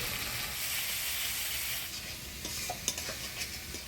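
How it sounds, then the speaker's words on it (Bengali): Ground coriander, cumin, ginger and chili paste with turmeric and salt stirred and fried in a pan, a steady close sizzle with scraping stirs growing more frequent toward the end, no voices. "মশলাটা ভালো করে নাড়াচাড়া করে নিলাম"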